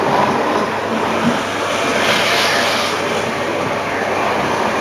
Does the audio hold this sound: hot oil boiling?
no